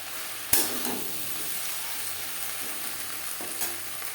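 Spices with ginger paste and green chili paste fry and get stirred in a pan of oil for a vegetarian okra (bhindi) dish, without onion or garlic. A steady close sizzle runs throughout, with a sharp stirring clatter near the start and a softer scrape later.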